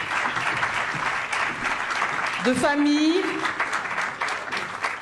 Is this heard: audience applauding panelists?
yes